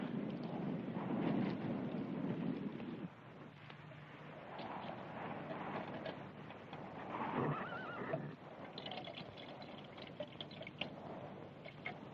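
A horse neighs and whinnies in a 1970 western film scene, with hoof clip-clops and faint outdoor wind over a long stretch and no talking heard.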